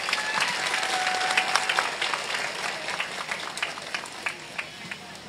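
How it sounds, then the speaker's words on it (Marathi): A large crowd claps steadily at an outdoor political rally speech, dense sustained applause that gradually thins toward the end, with a voice faintly underneath. "एक मोठा टाळ्यांचा हात सरांसाठी येऊन जाऊ देत प्लीज"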